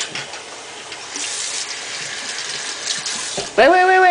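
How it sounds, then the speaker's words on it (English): Water runs steadily from a tap while hands are washed at a sink, a soft continuous splash, with a brief voice-like tone near the end. "Let me wash my hands."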